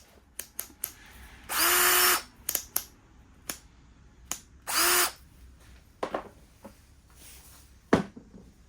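A power drill driving screws whirs in two short bursts of about half a second each, separated by clicks, taps and handling noises, with no talking.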